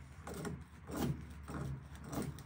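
Pliers clamped hard onto a seized Porsche wing mirror fixing nut and twisted, giving a short series of about four strained, creaking metallic grinds in close succession, with no voices.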